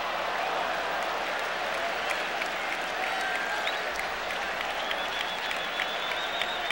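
Baseball crowd at a Mets vs Dodgers NLCS Game 7 applauding steadily and loudly throughout, a dense continuous wash of clapping and cheering with a few whistles.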